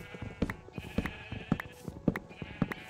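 Sheep in a video game castle yard bleat amid a run of sharp, evenly spaced thuds, roughly one every half second, set over a faint steady hum.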